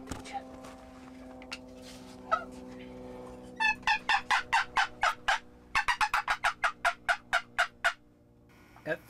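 A wild turkey gobbles during a traditional bowhunt, first in a few faint scattered calls, then in two loud, rapid rattling bursts of many pulses each, close and carrying over quiet outdoor ambience.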